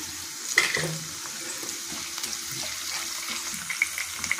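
Onion frying in a pan for Karnataka-style girmit, a soft continuous sizzle with occasional light clinks and stirring scrapes, close and steady without talk.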